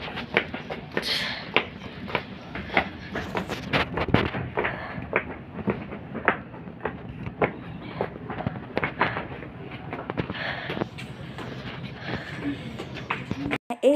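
Train at a railway station bound for Guwahati, with repeated sharp clanks and rattling knocks over a steady low rumble, close and fairly loud throughout.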